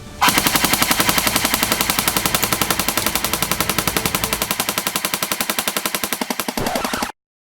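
A Halo MA5B airsoft rifle empties its magazine in one long, loud, close burst of evenly spaced rapid shots lasting about seven seconds. The shots slow slightly near the end before stopping abruptly.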